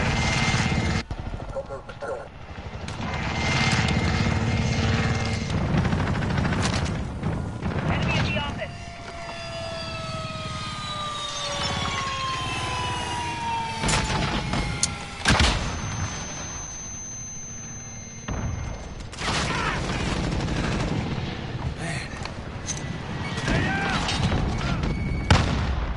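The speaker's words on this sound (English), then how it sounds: "he gets a support heli" Combat in a modern first-person shooter game: a support helicopter's rotor drone with a sweeping engine tone, mixed with gunfire bursts and booms, while a player talks over much of the action.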